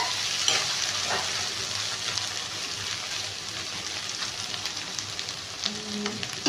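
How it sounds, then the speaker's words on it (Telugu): Egg and onion spicy curry frying in a pan, a steady close sizzle with crackling bursts and occasional stirring, no talk. "దాంట్లో ఉండే ఆనియన్స్లో ఉండే వాటర్ అనేది మొత్తం ఇంకుతుంది ఇలా మనకు ఫ్రై అవుతుంది"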